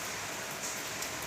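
Rainwater runs and splashes steadily in a continuous, even wash of hiss with no distinct drops standing out, moderately loud and with no voices.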